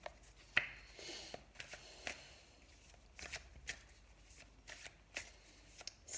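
Tao oracle cards are shuffled close by, a quiet run of quick riffling flicks and soft taps in irregular bursts, with no voices.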